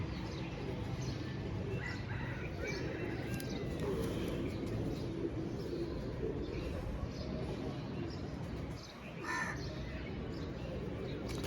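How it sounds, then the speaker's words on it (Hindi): Panther pigeons, a long-kept flock in a loft, coo softly amid a constant rustling bird-filled background, with someone talking over them throughout. "ये जी पैंथर कबूतर है हमारे"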